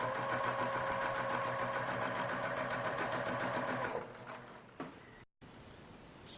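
A sewing machine stitching a decorative feather pattern on printed fabric, a fast steady mechanical whir with rapid needle clatter for about four seconds, then slowing, a few clicks and stopping.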